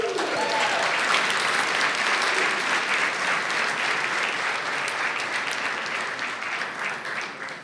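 Sustained applause from a school board meeting audience greeting a championship Trailblazers student sports team, dense and steady for several seconds, easing slightly toward the end.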